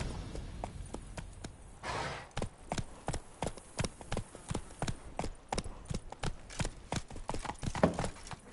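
A horse's hooves clip-clop steadily at a walking pace in The Witcher 3: Wild Hunt video game. The even, close beats carry on throughout under a faint ambient background, with no talking.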